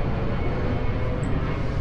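An airplane passes overhead above a coastal lookout in Lima, Peru, a faint, steady distant engine drone blending into broad outdoor background noise without any clear rise or fall.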